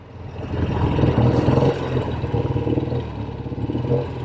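A 1964 Triumph Thunderbird motorcycle running on a very cold day, a steady close engine throb that swells briefly then settles into an even, pulsing idle.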